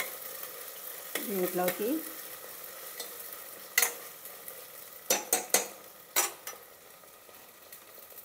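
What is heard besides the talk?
ingredients frying and being stirred in pan for kichidi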